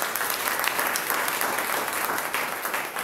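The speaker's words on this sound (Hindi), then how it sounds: "भंवर सिंह जी को लिए एक बार जोरदार ताली बजाऊंगा।" An audience at a Modicare business talk claps for Bhanwar Singh, thick sustained applause from many hands, steady and moderately loud for the whole stretch.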